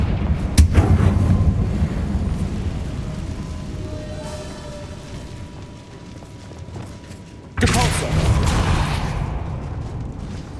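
Booming blasts of the Confringo fire spell from the video game Hogwarts Legacy: a heavy explosive hit opens, a rumbling decay follows, then a second loud burst strikes near the end, with mechanical creaks between.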